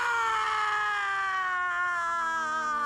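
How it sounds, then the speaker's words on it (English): An anguished scream from the Game of Thrones Red Wedding episode, a long sustained wailing cry with strong harmonics that slowly falls in pitch, loud and continuous over a soft background. "Just that scream."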